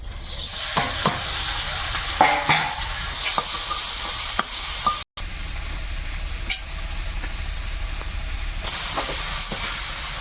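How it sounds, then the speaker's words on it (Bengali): Shrimp frying in hot oil in a home kitchen, giving a loud, steady sizzle and hiss with scattered clinks of stirring, and no talking. "তেল গরম হয়ে গেছে চিংড়ি মাছ"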